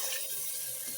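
Water is poured into a pot of fried beans porridge ingredients, including crayfish powder, making a short, close, steady splashing rush with no talking.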